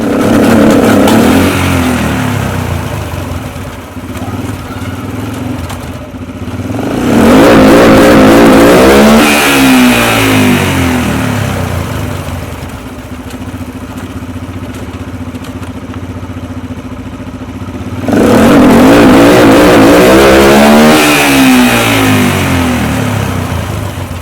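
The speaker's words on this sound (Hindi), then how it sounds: "जैसे ही इसका जरा सी पुश आएगा, लीवर को सेंस करेगा, तो इंजन कट ऑफ हो जाएगा, और इसके बाद गियर लगता है जाके" A Yamaha YBR 125 motorcycle fitted with a quickshifter revs loudly and close, climbing in pitch through rapid clutchless upshifts, easing off, then surging again in a second run.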